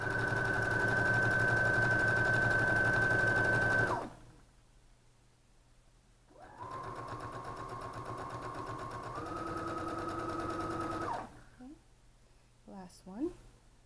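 Sewing machine stitching the points of a double-outlined five-pointed quilt star, running steadily in two bursts with a pause between, fairly loud and close, with a brief pitch shift mid-run.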